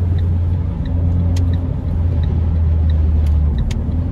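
Cabin noise inside a moving Renault Clio 4 RS, a steady low road rumble and drone with rattles and vibration from the rear, continuous and fairly loud, with a few faint ticks on top.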